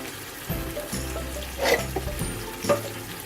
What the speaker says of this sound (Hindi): अब मैं इसके अंदर चने ऐड कर दूँगी।